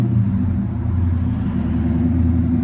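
A 6.4L HEMI V8 in a 2013 Dodge Charger SRT8 fitted with Jones mufflers, parked in snow, rumbles with a deep, loud, steady low growl under light throttle.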